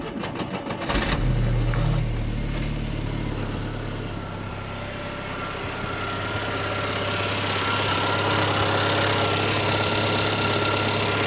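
A Skoda Favorit's overhead valve engine cranks and catches, then settles into a steady idle with a light tappy ticking, heard close and continuous without talk.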